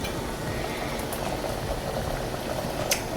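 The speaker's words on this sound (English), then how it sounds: "So this chili flakes are bubbling away." Chili flakes bubbling in a pan on the stove while pasta nears a boil, a steady close simmering fizz that runs continuously without pause and with no talk over it.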